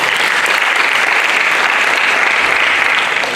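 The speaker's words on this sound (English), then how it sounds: "Can we please clap for them?" An audience at an award event claps steadily, a dense, even wash of applause that holds at full volume for several seconds without voices.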